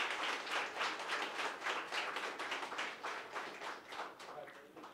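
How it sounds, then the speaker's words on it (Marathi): An audience at a Marathi book launch breaks into steady, dense applause that holds for several seconds as a thick wash of hand claps, slightly fading toward the end. "टाळ्यांचा कडकडाट करूयात."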